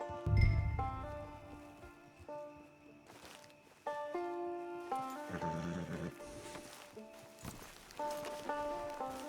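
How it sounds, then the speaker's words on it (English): A horse in the video game Red Dead Redemption 2 gives a short, close snort or whinny at the start, then sustained, tonal game music plays on. "It's your horse."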